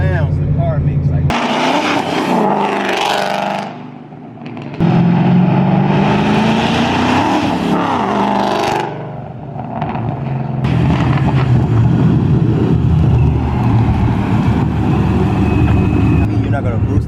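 A 2011–2014 Ford Mustang GT engine revs repeatedly, the note climbing and dropping in loud throaty surges with short lulls in between.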